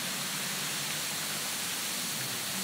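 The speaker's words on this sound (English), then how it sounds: "Coming upon this beautiful waterfall here." A waterfall on Maui pours steadily, a dense, even rush of falling water that fills the short moment without pause or voices.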